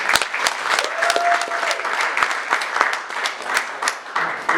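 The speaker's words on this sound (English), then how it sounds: "we can give ourselves another round of applause for that." Guests at the Goodwill Gala 2024 awards give a steady round of applause, many hands clapping continuously and fairly close with scattered sharper claps, no talking over it.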